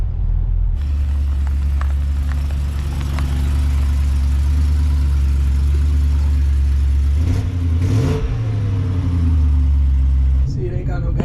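Twin-turbo Chevrolet C10 truck engine rumbles loudly at a steady low idle and cruise from inside the cab, with a brief rev swell near the end; people talk over it.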